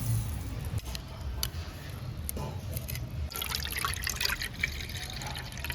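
Red lentils being rinsed in a bowl of water, with soft trickling, splashing and dripping sounds, fairly faint and close, brief swishes of water against the bowl.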